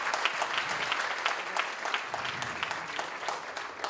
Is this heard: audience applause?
yes